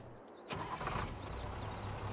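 A Case tractor mod's engine in Farming Simulator 22 starts with a sharp onset about half a second in, then settles into a steady, fairly loud idle rumble. No one speaks.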